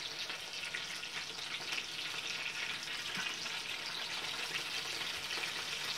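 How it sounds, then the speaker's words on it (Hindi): Peshawari chapli kebab frying in oil in a pan, a steady close-up sizzle and crackle that holds evenly throughout with no talk. "चटनी कबाब ये वाले भी एक साइड से फ्राई हो गया।"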